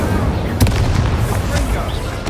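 An Incendio fire spell blasts off in Hogwarts Legacy, a sharp booming burst followed by smaller crackling pops and a rumbling tail under game noise.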